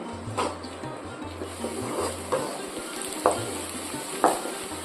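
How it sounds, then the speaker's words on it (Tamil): Onions and curry leaves sizzle and fry in a pan under a steady hiss, with periodic scraping stirs of a spatula against the pan. "இப்போ நம்ம சேர்த்துக்கிட்ட வெங்காயத்தையும் கருவேப்பிலையும் நல்லா வதக்கிடுவோம்"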